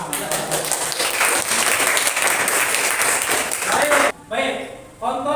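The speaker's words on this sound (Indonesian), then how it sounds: "Tepuk tangan" A class of students claps together for the finishing groups in a classroom, a dense sustained burst of hand clapping that breaks off near the end into a few brief louder sounds.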